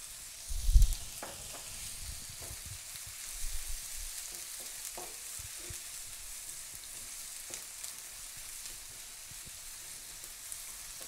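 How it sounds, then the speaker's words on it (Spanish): Garlic frying in a pan for a rice pasta dish with mushrooms, giving a soft, steady sizzle with a few brief louder stirs near the start, quiet and close with no talking. "Aquí también vamos a agregar un ajo."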